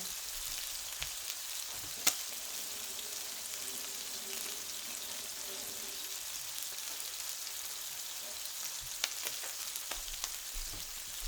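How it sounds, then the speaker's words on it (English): Duck breast sizzles skin side down in a pan on a first attempt at pan cooking, a steady close crackle and hiss holding throughout, with a couple of sharper pops and no voices. "With this, you're supposed to just let it cook, especially on the skin side."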